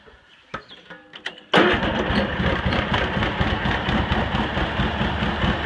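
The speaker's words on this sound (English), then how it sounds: "starts right up after I adjusted the carburetor" Cub Cadet 782 garden tractor engine being started after a carburetor adjustment: a few faint clicks and cranking, then the engine catches abruptly and settles into a loud, steady running idle close by.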